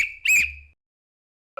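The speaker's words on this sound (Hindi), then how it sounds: "मैंने पहले विसल ही बजा दी।" A whistle blown by a contestant on a survival quiz show, one sharp loud shrill blast lasting about half a second, followed by silence, then the start of another sound at the very end.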